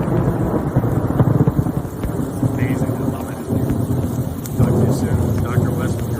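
A thunderstorm rolls on as a steady, loud rumble mixed with gusting wind buffeting the microphone, while a voice speaks faintly through it.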